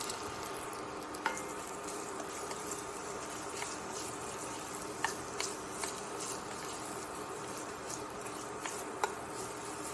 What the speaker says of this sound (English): Hear that sizzle? Yeah, I'm just gonna cook this right on along.